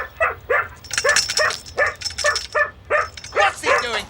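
A dog barks in rapid, repeated yaps and yips interspersed with whimpering, close and loud at an entrance, while people talk tensely in a television drama scene.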